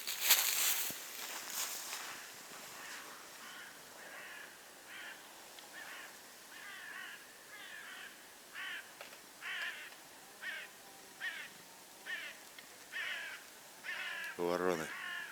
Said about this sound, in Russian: Вороны тявкают.